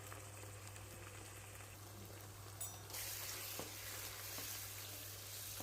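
Beef frying in a pan with masala stirred in, a steady close sizzle under a low hum, brightening and intensifying partway through as the masala goes in, with occasional scraping stir clicks.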